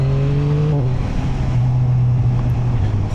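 A Yamaha MT-09 motorcycle accelerating to overtake a car, its engine droning loud and steady close by, the pitch dropping briefly mid-pass, with constant wind roar.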